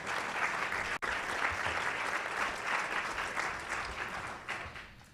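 A lunch audience at the National Press Club gives a round of applause: steady, full clapping from many hands that runs for several seconds, with a brief dropout near the start.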